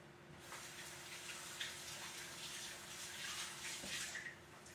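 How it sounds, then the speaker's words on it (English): Running tap water pours steadily over hands being rinsed at a kitchen sink during cooking, a continuous close hiss and splash lasting several seconds with no talking. "Just rinse my hands real quick."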